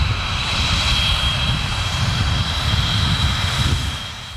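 Four Yak-130 jet trainers arriving at a military airfield in Bobruisk, a loud sustained jet engine roar with a high whine, steady throughout and easing slightly at the end.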